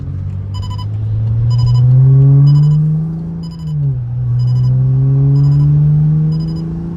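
A stage 2+ tuned BMW 535i drones loudly from inside the cabin while driving. Its exhaust rumble holds steady, briefly dips as if shifting, then climbs again, with a regular ticking beep repeating above it.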